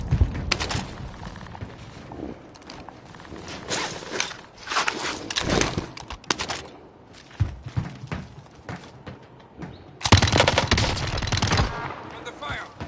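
Gunfire in the Call of Duty Warzone battle royale, with repeated loud bursts and single shots scattered across the clip amid footsteps and gear rustling, capped by a heavy sustained burst near the end.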